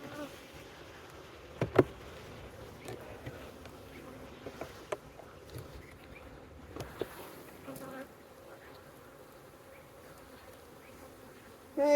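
Honey bees hum softly in a low, continuous buzz around an open beehive during an inspection. Occasional faint clicks and knocks of frames being handled sound over it, and no one speaks.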